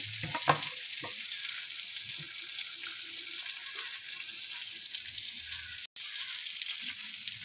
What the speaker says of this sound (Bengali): তো আমি এখন আলু আর শোলা কচুটাকে ভেজে নেব।